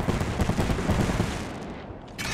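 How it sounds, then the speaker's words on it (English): Rapid bursts of blasts from Fuse's knuckle cluster in Apex Legends, a loud, dense, crackling barrage of close explosive pops that thins out toward the end. "Stand back, knuckle cluster's firing."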